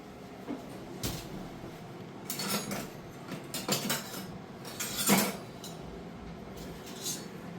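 Grain, bajra among it, is stirred and scraped on an iron griddle over a gas stove, giving quiet intermittent metallic clinks and scrapes with short pauses between strokes.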